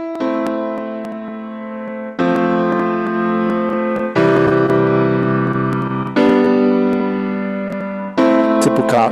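Sustained synthesized triad chords in a simple pop-style progression, each held about two seconds, change in clean blocks, steady and loud with no talking.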